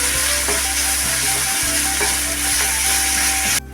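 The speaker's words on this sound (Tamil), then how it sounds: "இதை நல்லா பொன்னிறமாக வதக்கிக்கணும்" Two large finely chopped onions fry in a pan until golden for a Tamil side dish, giving a steady, close sizzle with soft stirring scrapes and clicks throughout, and no voices.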